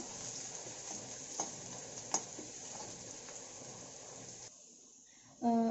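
Chopped ginger and garlic frying in a pan, a steady close sizzle with a few stirring clicks that cuts off near the end, followed by a brief voice.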